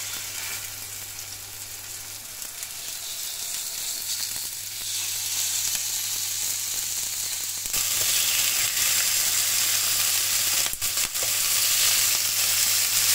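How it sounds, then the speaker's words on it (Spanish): Lamb chops coated in garlic and parsley oil sizzle on a hot griddle, a steady close crackling hiss that grows louder partway through. "Y nos vamos a la plancha."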